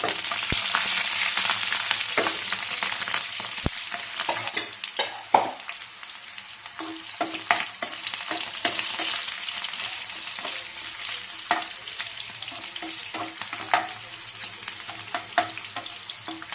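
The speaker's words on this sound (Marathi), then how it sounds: "आता याच्यात टाकू ह्या मिरच्या. त्या मिरच्याला चांगलं भाजून द्यायचं." Green chillies sizzle in hot oil with cumin seeds in a pan, a bright, constant crackling fry broken by sharp pops and occasional stirring clatter, close and steady throughout with no talk.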